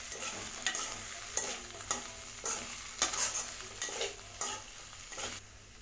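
Boiled chickpeas and potatoes with salt being mixed in a pan on a low flame, a rhythmic series of spoon scrapes and stirs repeating roughly every half second over a soft sizzle.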